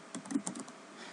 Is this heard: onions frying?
no